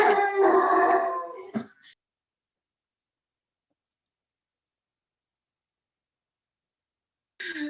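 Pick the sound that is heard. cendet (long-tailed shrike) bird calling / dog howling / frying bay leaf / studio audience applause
dog howling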